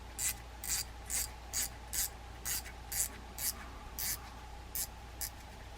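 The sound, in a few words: tightening adjuster knob on Shimano Sustain 3000FG fishing reel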